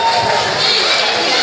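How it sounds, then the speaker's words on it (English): A comedy club crowd bursts into loud, dense applause mixed with cheering and hollering voices, a close, full roar held at steady volume throughout. "Give her a round of applause."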